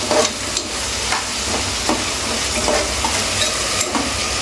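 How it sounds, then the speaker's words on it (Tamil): Tomatoes fry in a pan on a medium flame for biryani, sizzling steadily up close. Periodic scrapes and clicks of stirring sound over the continuous hiss. "தக்காளி போட்டு அப்படியே லைட்டாக ஸ்டவ் வந்து மீடியம் ஃப்ளேமில் வச்சுக்கோங்க"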